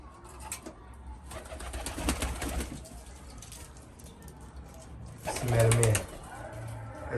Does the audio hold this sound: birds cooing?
yes